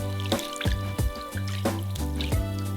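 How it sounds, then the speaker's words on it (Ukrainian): Chicken feet lifted from hot oil: wet drips and small splashes fall at a steady pace, a few distinct plops of liquid close up, with no talking. "Вибираємо їх з гарячої олії."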